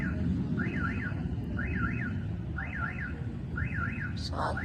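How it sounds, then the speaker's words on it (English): A car alarm wails in Chabahar, Iran, at night following an airstrike, its repeating rising-and-falling siren cycles sounding at a moderate distance over a steady low rumble of background noise. "You can hear an alarm going off."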